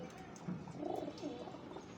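Pigeons coo softly and close by, a short run of low, rolling coos against a faint background.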